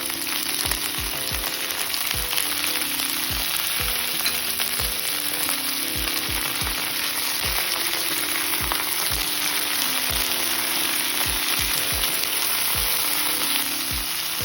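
Okra and tomato pieces fry in an oiled pan for village-style masala bhindi, a dense, steady sizzle that stays loud and close throughout, punctuated by frequent low knocks of a utensil against the pan.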